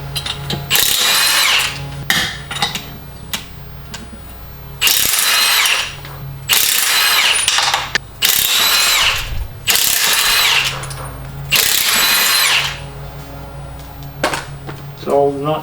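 An impact gun pulls lug nuts with a 21mm socket off the rear wheel of a 1995 Toyota 4Runner in a garage, firing in about six loud rattling bursts separated by short pauses, with a voice talking at times.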